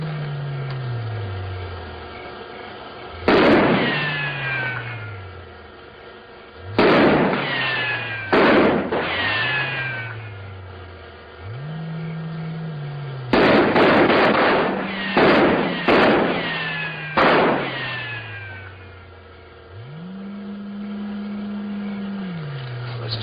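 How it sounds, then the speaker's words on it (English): Gunfire rounds from a 1950s science-fiction film, Invasion of the Saucer Men, as soldiers fire on a flying saucer: sharp bursts of shots in several clusters, with eerie electronic tones rising and gliding between them. "Maybe if we fired a few rounds, it might scare them out."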